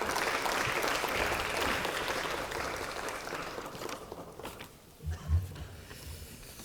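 Audience applause at a Democratic Party lawmakers' workshop in the Korean National Assembly, a dense steady clapping that fills the room and fades over several seconds, followed by a few louder low thumps near the end.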